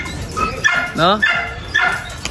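A female Belgian Malinois dog barks and yelps a few times at a kennel, loud and close, with someone talking over and between the barks.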